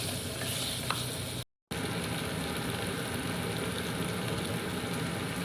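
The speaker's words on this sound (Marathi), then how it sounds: "तुम्ही बघू शकता भाजी आता फ्राय होत आलेलं आहे." Vegetables sizzle and fry in a pan with a steady, loud crackling hiss that carries on unbroken apart from a brief gap of silence.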